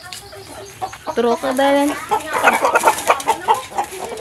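Kubra chickens, a bare-necked breed, clucking and squawking close up in a busy flock, with someone speaking over the birds.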